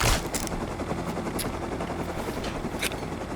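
Minicopter flying in the survival game Rust, a steady rotor thrum with sharp crackles of distant gunfire cutting through it, continuous and moderately loud with no talk.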